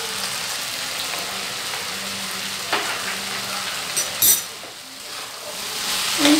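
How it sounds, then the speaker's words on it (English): Bhetki fish scramble frying in a pan, a steady loud sizzle with scraping stir strokes and a few knocks of the spatula, close up with no talk. "Keep on stirring well."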